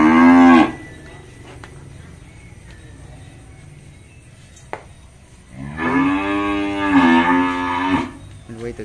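Cattle on a Vietnamese farm lot low loudly and close by, one moo at the start and a longer drawn-out bellow near the end, with quieter stretches between.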